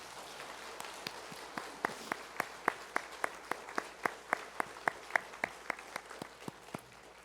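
Church congregation at a 56th-anniversary service clapping in a steady, even rhythm, about two claps per second, sharp and moderately distant over a low background hum.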